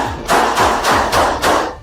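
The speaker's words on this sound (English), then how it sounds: "Gunfire erupted." Gunfire from a police confrontation with a knife-wielding woman: four sharp, loud bursts in quick, regular succession, each with a short booming tail, close and with no speech.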